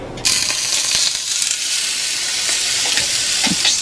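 A marinated steak lands on a hot surface and sizzles loudly at once, a close, continuous frying hiss with small crackles and pops throughout.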